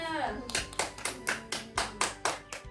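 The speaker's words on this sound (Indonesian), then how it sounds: "Beri tepuk tangan buat Mbak Risma." A fourth-grade class claps in unison for a classmate during a primary school lesson, about eight evenly spaced, sharp claps in a steady beat, close and clear, with a faint voice underneath.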